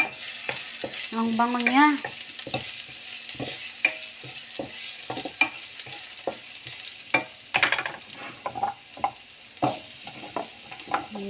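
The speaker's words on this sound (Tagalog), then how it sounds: "Ayan, igigisa na natin ang ating kalabasa." Squash sizzles as it is sautéed in a pan, with repeated scraping and stirring strokes over a steady frying hiss, close up, and a brief spoken comment near the start.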